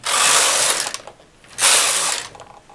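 Knitting machine carriage pushed across the needle bed to knit rows for an embossed diamond cable, two loud mechanical sweeps with a brief pause between.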